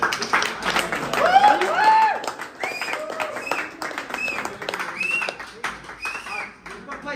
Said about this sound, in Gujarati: તાળીઓ પાડો